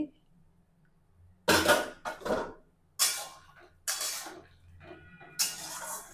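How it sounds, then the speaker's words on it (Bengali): Poppy seed paste poured into a pan of cooking green banana and potato, giving several short wet splashes and clinks in separate bursts against a quiet background. "এই যে পোস্তটা ঢেলে দিচ্ছি।"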